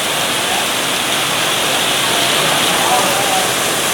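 Heavy rain falls outdoors during pond cleaning, a loud, dense, continuous rushing hiss close by that holds steady throughout with no pauses.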